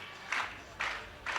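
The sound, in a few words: crowd clapping at air rifle competition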